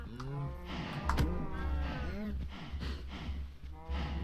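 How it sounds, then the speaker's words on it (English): Cows mooing in a Minecraft-style game world, several close, low drawn-out moos in quick succession with a snort, loud and alone. "I have tons of cows."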